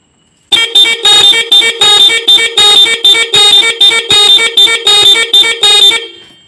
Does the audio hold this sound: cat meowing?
no